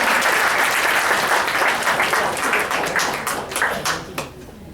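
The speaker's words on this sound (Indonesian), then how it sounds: "Tepuk tangan buat MC kita ya" A room of people applauds the MC at a financial company gathering, dense steady clapping that thins out near the end with a few scattered claps.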